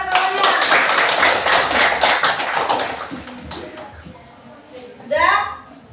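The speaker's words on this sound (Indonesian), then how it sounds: "silakan tepuk tangan kepada kawannya" Students in a classroom clap for a classmate, a lively burst of many hands that fades after a few seconds, followed by a short voice and some room shuffling.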